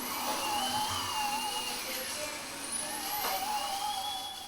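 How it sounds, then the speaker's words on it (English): A dentist's drill whines at a high, thin pitch, gliding up and down as it works on teeth, fairly quiet and steady over a faint background hum. "That dreadful sound of a dentist drilling your teeth can also drill a hole in your wallet."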